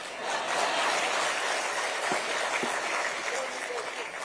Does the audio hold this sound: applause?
yes